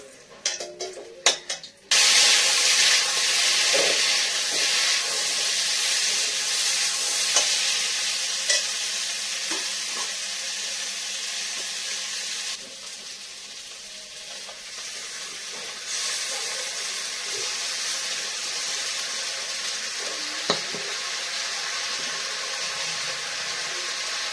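Snake gourd fries in a hot pan with a loud, constant sizzle, occasional scraping and stirring clatter, and the hiss easing slightly partway through.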